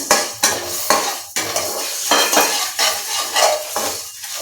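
Whole coriander seeds drop into a pan of dry-roasting biryani spices such as star anise and bay leaf, followed by brisk scraping and rattling as a spoon stirs them against the metal in quick, uneven strokes.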